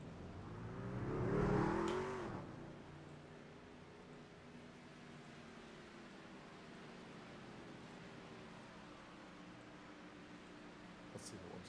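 A race car engine in the iRacing sim swells and revs near the start, with a climbing harmonic tone, then settles into a steady, softer drone for the rest.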